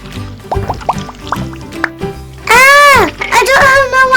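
Golden slime mixed with glitter and sequins is squeezed and squished by hand, giving wet squelches and bubbly pops in quick irregular bursts, close up, while a voice rises over it partway through.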